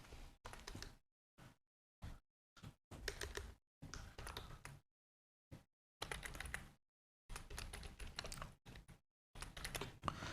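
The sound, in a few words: typing a URL on a keyboard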